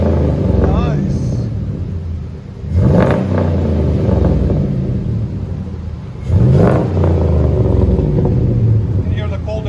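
A 2003 Chevy Silverado SS with a 6.0L V8, Magnaflow exhaust and cold air intake idles with a deep rumble and is revved twice in loud surges, each settling back to idle.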